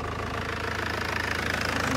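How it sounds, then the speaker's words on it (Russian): A 2000 Ford Focus estate with a 1.9 diesel engine idles steadily, a low, even mechanical rumble with a light rhythmic knock running throughout, recorded close and without talk. "Ну, вот так работает мотор."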